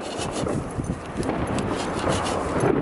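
Hand saw rasping back and forth through wood outdoors during a New Year's Eve bonfire build in the Netherlands, a rapid series of rough, loud strokes up close.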